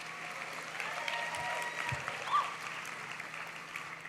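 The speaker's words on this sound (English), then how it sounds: "Let's give a round of applause to Nadia for the alumni charge." An audience at a Stanford Black graduation ceremony applauds steadily, a moderately distant wash of clapping hands that holds even through the whole stretch with slight swells.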